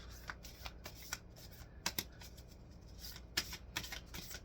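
Oracle cards being shuffled by hand in a few quick bursts of papery riffling and flicking, close and fairly soft, with brief pauses between.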